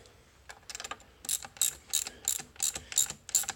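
Ratchet tightening a nut onto a taper, a series of sharp clicking bursts in quick repeated strokes, growing louder and more regular, close and alone.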